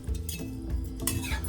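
Rice being folded into mutton yakhni in a pot, with soft, close scraping and light clinks of a spoon against the pot and a low continuous rumble underneath, no voices.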